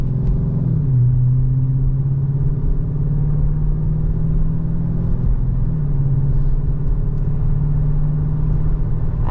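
Dodge Charger R/T with a 5.7L V8 shifting gears in manual mode, a steady close engine drone that drops in pitch at a gear change early on, with another slight shift later.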